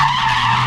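Car tires skidding and squealing through a drift on a driving session, one loud continuous screech held steady from start to finish with no pause, up close.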